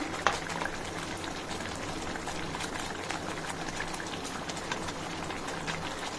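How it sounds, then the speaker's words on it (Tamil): A pot of curry with added dumplings bubbles softly at a low simmer, faint continuous popping and hiss with one small clink near the start. "இது ஒரு கொதி வரட்டும் நல்லா மூடி போட்டு கொதிக்க விட்டுடலாம்"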